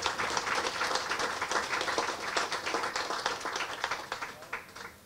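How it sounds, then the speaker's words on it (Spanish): Sustained applause from an audience at a hospital equipment handover ceremony, dense steady clapping that holds at an even level throughout without pause. "Yo quiero pedirles a todos un aplauso para ellos porque es fundamental."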